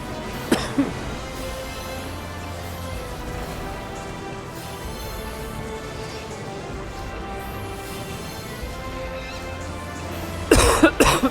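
A short burst of coughing near the end, loud and close, following a long stretch of steady game music and background sound.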